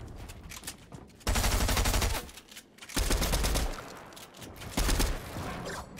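Repeated bursts of automatic SMG fire from a gold combat SMG in a video game, three loud sustained volleys with quieter game ambience between them.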